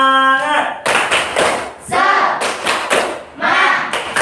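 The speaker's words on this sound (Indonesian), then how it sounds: "kita tepuk semangat terlebih dahulu." A class performs the tepuk semangat spirit clap in time, with loud, close bursts of hands clapping together in a chanted rhythm. A voice leads it at the start and the students join in, chanting between the claps.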